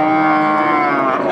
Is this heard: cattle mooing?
yes